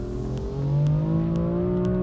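A BMW M4 Competition F82 revs on an open road, a steady deep engine drone with rising tone sweeps as it pulls through the gears, heard from inside the car.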